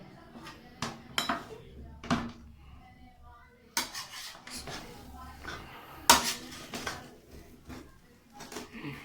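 Cooked chicken biryani rice is mixed in a pot with a spoon, giving sporadic metal clanks and scrapes against the pot between quieter rubbing stirs.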